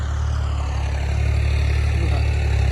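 A tractor engine ploughing a sorghum field on a Punjab farm holds a steady, even drone from start to finish, close by and alone with no voices.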